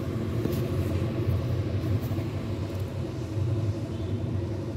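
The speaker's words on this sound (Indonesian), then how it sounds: "Di sini engine-nya itu engine Kubota." The Kubota engine of an XCMG XE55DA hydraulic excavator runs at a steady, close rumble, a low continuous drone holding an even pace throughout with no voices over it.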